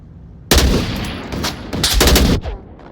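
AK-12 rifle fire in the VR game Onward: a sudden loud burst of rapid automatic shots with brief pauses, close and sharp, ending abruptly with a faint rattle afterward.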